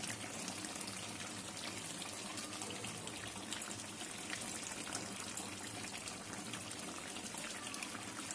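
Water poured into a pot of Bengali-style shahi mutton korma makes a steady, soft rushing and trickling sound that continues evenly, with no voices.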